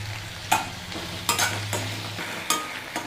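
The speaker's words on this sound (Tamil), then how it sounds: "இதையும் நல்லா வதக்கி விட்டுக்கோங்க." Onions and tomatoes sauté in a pan for a spicy kara chutney. A spoon stirs them in four or five distinct scraping strokes over a soft, close sizzle, with a low hum fading partway through.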